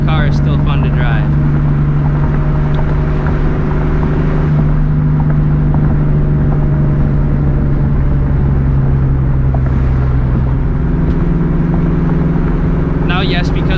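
A 2004 Ford Mustang GT with shorty headers and a slight exhaust leak drones loudly while driving, its steady low rumble shifting pitch with the revs as someone talks over it.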